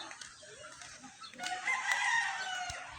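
A rooster crows in the background with a harmonic call rising midway, amid faint farmyard ambience and some clucking chickens.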